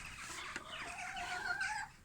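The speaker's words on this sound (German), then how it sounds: "also das Speedy, also das kleine Zwergsundheimer, das ist nämlich gerade im Hühnerstall" A dwarf Sundheimer chicken clucks and warbles softly nearby in a henhouse, a run of throaty, uneven calls over faint background noise.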